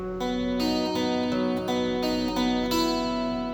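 Guitar fingerpicking open strings in the chord pattern of a song, clear plucked notes ringing over one another in a gentle steady rhythm, close and moderately loud with no talking.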